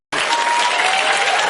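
An audience bursts into loud, sustained applause and cheering that starts abruptly from silence and holds at an even, dense level throughout.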